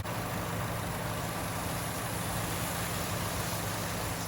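A 2012 Chevrolet Cruze engine idles with the hood open, a steady low drone and hum under a constant broadband hiss, holding at an even level for the whole stretch with no voices.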